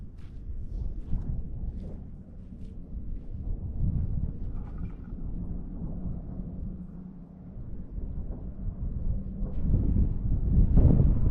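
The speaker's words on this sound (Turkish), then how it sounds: "esen rüzgar serin esiyor" Steady low wind rumble buffeting the microphone outdoors in hot weather, gusting stronger toward the end, with no talking.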